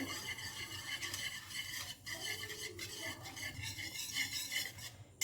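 A spoon stirs semolina and sugar together in a bowl for a cake, making soft, repeated scraping and clinking strokes at close range, fairly quiet and with no talk.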